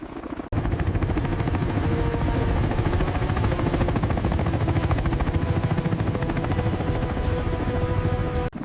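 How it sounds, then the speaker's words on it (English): An MV-22B Osprey tiltrotor aircraft lifts off with a loud, continuous rotor thump and engine roar that starts abruptly and holds steady and close. "The MV-22B Ospreys lift off, transitioning smoothly from helicopter to airplane mode as they gain altitude."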